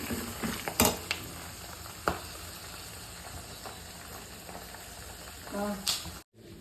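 Chana dal, peanuts, green chillies and dry red chillies frying in oil for tamarind pulihora, a steady close sizzle with a few sharp stirring and utensil clinks, ending in a brief silence.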